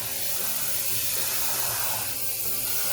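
Hot water from a tap opened fully, pouring into a glass: a steady hissing, splashing stream that holds constant for the whole stretch, close and alone, with no talk.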